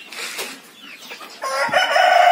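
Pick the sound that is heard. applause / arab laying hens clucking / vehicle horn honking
arab laying hens clucking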